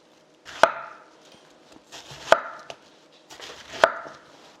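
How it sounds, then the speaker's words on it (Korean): A knife cuts Korean pear into thick julienne strips on a cutting board, making three sharp, loud chops about a second and a half apart, each with a light scrape between. No voices. "좀 약간 굵게 채를 썰어 주세요"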